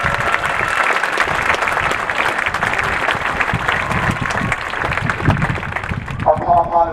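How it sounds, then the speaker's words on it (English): An audience at a school pie festival applauds the color guard advisors, sustained dense clapping from a crowd that tapers near the end as a voice returns. "if you could just applaud after I mention them, that'd be great"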